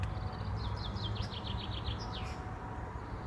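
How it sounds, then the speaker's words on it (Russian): Small birds singing near a bridge on a countryside bike ride, a quick series of rising chirps repeated in a clear phrase, fairly close, over a steady low outdoor rumble. "Где-то птички поют."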